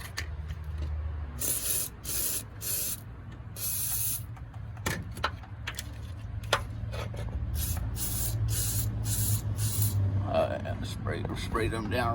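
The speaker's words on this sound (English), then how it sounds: "Spray them down real nice." WD-40 sprays in repeated hissing bursts onto the transmission bolts under a 1994 Ford Ranger, close and loud, with a person talking over parts of it.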